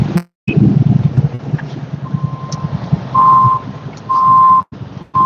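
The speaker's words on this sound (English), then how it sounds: "There's another feed truck." A feed truck rumbling nearby in wind, its engine droning while two long reversing beeps sound out clearly over the noise.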